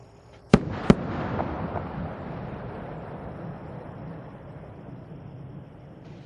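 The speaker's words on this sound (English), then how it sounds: "the space shuttle announces its arrival at the launch site with its signature sound of twin sonic booms" Space shuttle Atlantis arrives over Kennedy Space Center before dawn with twin sonic booms: two sharp, loud cracks less than half a second apart, then a long rolling rumble that slowly fades.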